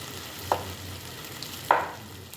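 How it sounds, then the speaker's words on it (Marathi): Potato slices fry in a pan as they are stirred, two short scraping strokes standing out over a low, steady background hum. "झाकण काढून परत एकदा थोड्याशा परतून घ्यायच्या"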